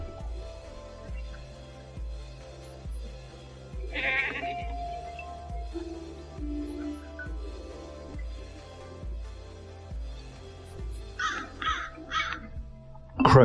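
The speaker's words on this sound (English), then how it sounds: "Crows pick over the remains of a recent snow leopard kill, one of the nomads' goats." Crows cawing over the remains of a goat killed by a snow leopard on the Mongolian steppe, several harsh calls rising in bursts near the end over a steady background of music-like tonal layers.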